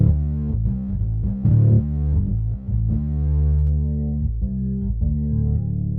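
Distorted bass pedal sample from the Bad Cat pack, blending dynamic and ribbon mics with chorus layered over the grit, plays a run of swirling, fuzzy bass notes for several seconds with no talking.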